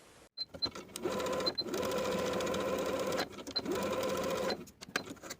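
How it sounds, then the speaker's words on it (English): A sewing machine runs basting stitches along the top of a dress sleeve in two steady, loud whirring bursts, each lasting a couple of seconds, with brief clicks and handling noises between them. "We're going to sew basting stitches along the top of the sleeve from the front notch to the back notch"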